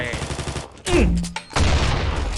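Gunfire and grenade-launcher explosions in the mobile shooter Combat Master Mobile, loud rapid shots followed by heavy blasts in quick succession, close and punchy.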